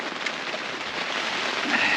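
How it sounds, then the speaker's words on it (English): Night rain falls at a sheltered anchorage beside a small cruising dinghy, a steady close hiss of drops pattering on surfaces with no voices. "It's raining in the night."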